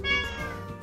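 A house cat meows close by in a kitchen, one short drawn-out call with a bright harmonic tone lasting under a second, with no talk over it.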